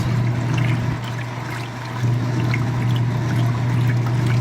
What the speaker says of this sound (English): the agitator is frothing up the water a little bit